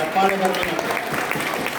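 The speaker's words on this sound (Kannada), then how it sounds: "ಜೋರಾದ ಚಪ್ಪಾಳೆ ಬರಲಿ" Steady applause from a crowd, a dense wash of clapping that fills the whole stretch without letup.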